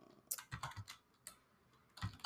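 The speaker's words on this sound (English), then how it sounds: "I'm just typing in something" Fingers tap on a computer keyboard in short bursts of quick, close clicks with brief pauses between them, soft and crisp.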